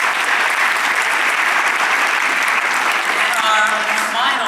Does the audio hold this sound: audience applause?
yes